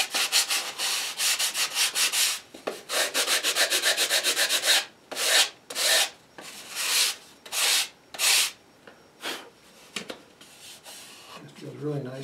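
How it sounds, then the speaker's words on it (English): Sandpaper is worked back and forth over a glued wing panel joint on a model aircraft wing, first in fast even strokes, then in slower separate passes, close and loud, with no one speaking. "So what we're going to do is to sand it. We'll sand this way going up and then we'll sand going across"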